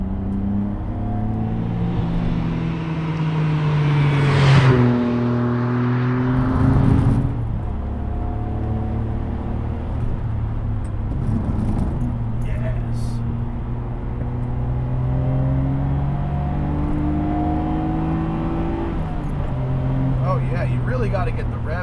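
A Nissan R33 GT-R engine hums and rises in pitch as it revs during driving, with a steady low drone throughout and someone talking over it.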